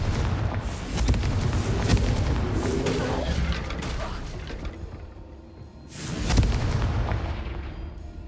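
Confringo blast spells cast in Hogwarts Legacy inside a haunted house, heavy booming explosive impacts with whooshing bursts, two main loud blasts separated by a quieter lull.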